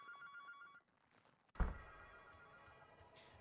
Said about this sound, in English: Ring ring. Ring ring ring ring. Phone call.